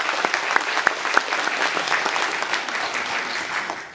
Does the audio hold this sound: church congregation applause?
yes